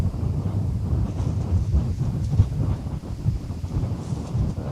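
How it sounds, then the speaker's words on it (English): Strong wind gusts buffet the microphone at Schiphol Amsterdam Airport during crosswind landings, a steady loud low rumble with surging peaks and no speech. "Strong gust again."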